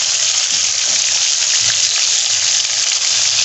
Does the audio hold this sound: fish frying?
yes